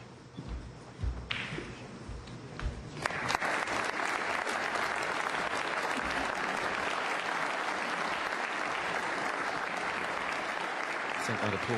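Snooker crowd applauding a match victory by Jimmy Robertson at the Northern Ireland Open, sustained dense clapping that swells after a few seconds and holds steady at moderate distance, with faint talk at the start.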